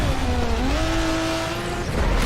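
Race cars speeding in the Forza Street video game: a loud, continuous engine whine that climbs in pitch as it accelerates, over dense road rumble.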